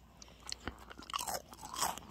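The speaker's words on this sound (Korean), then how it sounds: "드레스 받고 과자를 먹는 중." Crunchy snack crackers being bitten and chewed up close, a series of sharp, irregular crunches and crackles with small rustles between bites, no talking.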